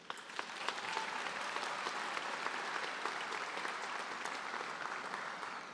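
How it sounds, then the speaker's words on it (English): Graduation ceremony audience applauding in honor of donors, a steady wash of many hands clapping in a large hall, moderately distant and even throughout. "let's give them applause"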